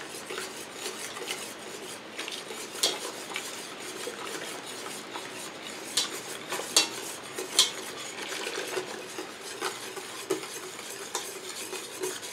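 Homemade eggnog mixture being poured and stirred back into a pot off the heat, a soft continuous scraping and swirling with scattered light clinks of a utensil on metal, close and without talk.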